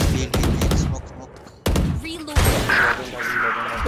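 Loud automatic AK rifle fire in a tactical shooter game, bursts of rapid shots across most of the clip with a brief gap, a voice talking over the action.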